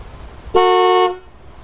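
Stock car horn on a 1991 GMC Sonoma pickup, sounded once from close by as a single steady, loud half-second honk over faint background noise.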